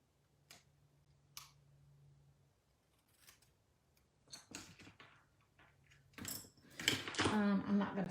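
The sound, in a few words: scissors trimming a paper die cut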